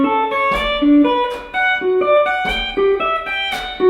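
Muted, percussive guitar picking with all strings blocked, a clipped, damped tone, a steady rhythmic boogie pattern of short plucked notes played up close.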